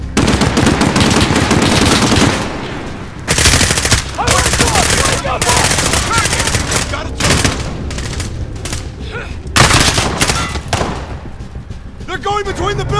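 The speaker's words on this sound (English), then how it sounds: "We need to nullify that gun nest!" Sustained machine-gun fire from an enemy gun nest in the Call of Duty Modern Warfare video game, loud rapid bursts near and far with scattered gunshots, overlapping shouted in-game soldier voices.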